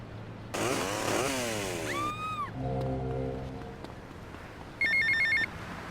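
A payphone ringing in GTA Vice City, a short burst of bright electronic ring tones near the end, following a loud rasping engine-like drone and sweeping game sounds.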